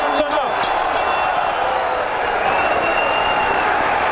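Boxing arena crowd at Mohegan Sun applauding after a fight, a steady wash of clapping and cheering with a few sharp claps at the start, a commentator's voice faintly under it.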